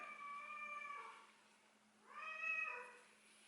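A house cat meows twice, long drawn-out wavering cries separated by a brief pause, faint and distant in the background of a quiet indoor room.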